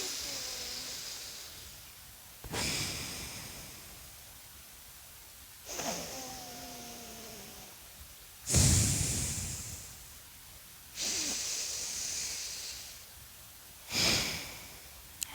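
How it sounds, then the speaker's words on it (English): Alternate nostril breathing exercise in a kids' yoga session: about six slow, deep breaths through the nose come a couple of seconds apart as airy inhales and exhales, close and fairly loud, with soft voiced sighs between some of them. "Plug up that side, open up the other side, and breathe out that side."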